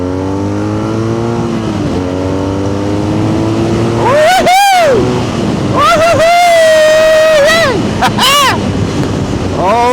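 A 2025 BMW R nineT Scrambler motorcycle with its stock exhaust climbs through repeated rising revs while being ridden, loud and close, with a rider talking over the engine note.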